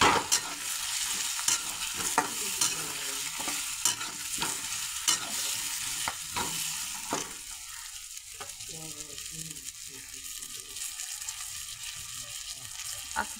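Curry leaves and homemade masala drop into hot oil and sizzle loudly at close range, with a spoon stirring and scraping against the pan in repeated knocks before the frying settles into a softer crackle.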